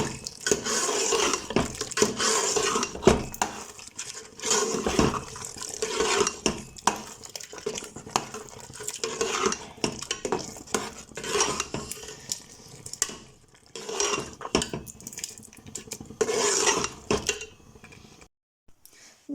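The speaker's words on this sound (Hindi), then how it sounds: "तो ये घी डाल के हम इसको थोड़ा सा भूनेंगे।" Sugar-free carrot halwa made with grated carrots is stirred and roasted in desi ghee in a pan, giving busy repeated scraping and clinking of a spoon against metal, loud and close, pausing briefly near the end.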